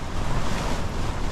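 Strong wind gusting during a mountain blizzard, a loud, dense, continuous roar buffeting the microphone throughout, with no voices.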